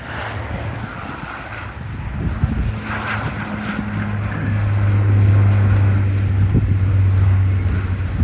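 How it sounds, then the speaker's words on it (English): Airliner engines rumble at Sydney Airport as a Thai Airways jet pushes back. The low, steady roar is fairly distant and swells gradually over several seconds. "Thai Airways is pushing back now"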